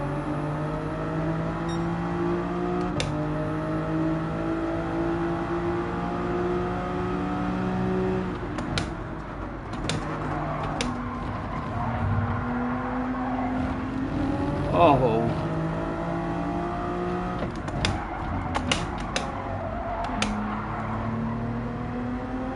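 Toyota Supra race car in Gran Turismo 7 drones steadily with rising and falling engine pitch through gear changes, a continuous near whine under occasional clicks.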